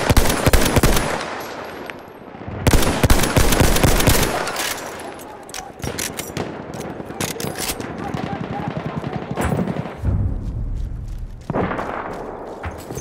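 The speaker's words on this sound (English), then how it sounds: "Machine gun, look lively!" Machine gun fire in the Battlefield 1 video game during a Conquest match, long loud rattling bursts with booming shots, a brief lull near the middle, continuing almost without pause to the end.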